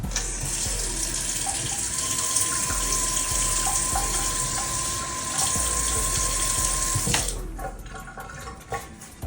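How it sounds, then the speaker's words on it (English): Warm water runs from a tap onto a paper towel, a steady close hissing gush for about seven seconds that then stops, leaving faint handling noises. "We're gonna pour warm water on it, not cold, not hot."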